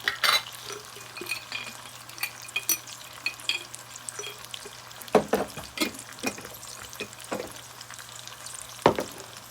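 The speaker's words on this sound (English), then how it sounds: "So let that fry down a little bit of peppers." Peppers frying in a pan for spicy fried potato leaves: a soft, continuous sizzle broken by sharp clinks and scrapes of stirring, close by and with no talking.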